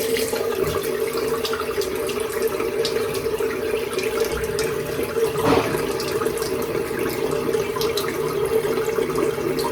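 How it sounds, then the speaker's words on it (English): Steady running tap water pours over a denture being rinsed at a sink, a continuous close wash of water with one brief louder splash midway and no talking. "We're gonna rinse it off and see how it's looking."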